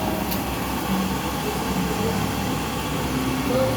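A small portable mini stove burner turned up to high power gives off a dense, steady roar of gas flame, loud and close, holding at an even level with no talking.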